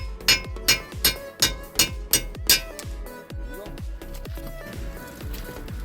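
Sharp metallic hammer blows ring out in a quick steady series, about seven strikes, knocking a wheel lug stud out of a 2008 Toyota, then lighter clinks and ringing fade.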